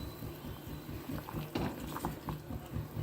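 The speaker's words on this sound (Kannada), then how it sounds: "ಒಳ್ಳೆ ಕುದಿ ಬರ್ತಾ ಇದೆ ಜೊತೆಗೆ ಘಮ ಘಮ ಪರಿಮಳ ಸಹ ಬರ್ತಾ ಇದೆ" Rasam boils in a pot, giving a soft, continuous bubbling with small irregular pops and gurgles at low volume and no talking over it.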